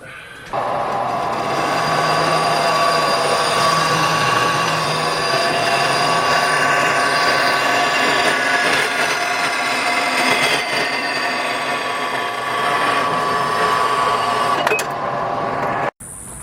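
A saw cuts through a bicycle frame, a loud, continuous grinding and ringing metal whine held steadily for about fifteen seconds before cutting off.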